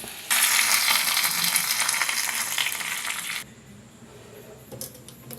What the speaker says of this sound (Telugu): ఇది ఉలవచారులో వేసేద్దాం